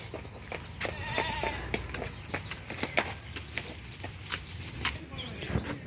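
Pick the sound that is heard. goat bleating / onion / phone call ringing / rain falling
goat bleating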